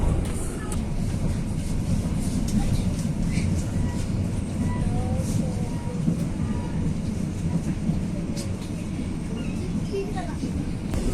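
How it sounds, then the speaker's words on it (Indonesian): Logawa passenger train pulling into Rambipuji station in the morning, a steady continuous rumble of wheels and carriages with faint clicks, heard alone at moderate level throughout. "kereta api Logawa sudah tiba di stasiun Rambi Puji"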